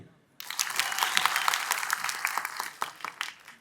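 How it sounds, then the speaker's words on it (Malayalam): An audience at an evening event applauds after a request for a hand, a sudden burst of moderate clapping that starts after a brief quiet and thins out toward the end. "ഒരു കയ്യടി."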